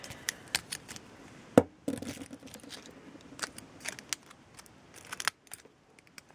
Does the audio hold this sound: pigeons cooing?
no